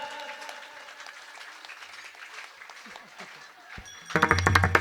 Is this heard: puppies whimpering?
no